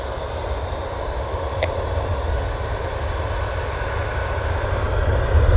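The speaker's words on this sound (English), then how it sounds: "This is the Easyjet A320 going off to Rome." An EasyJet Airbus A320 departing Manchester for Rome produces a continuous jet engine roar that swells slightly toward the end, with one brief sharp tick early on.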